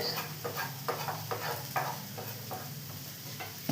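Onion and tomato are stirred in a frying pan, with a spatula scraping repeatedly against the pan at an uneven rhythm over a steady close sizzle.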